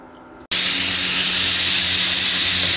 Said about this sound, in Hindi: एक सीटी बोल चुकी है, ये देखिए पक चुका है।